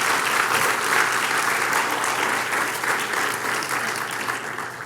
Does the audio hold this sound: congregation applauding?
yes